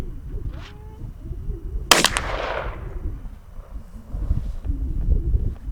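A 12 gauge shotgun with a cylinder bore choke fires a single loud, sharp blast of Winchester birdshot outdoors at 25 yards, with a short decaying tail over steady wind noise.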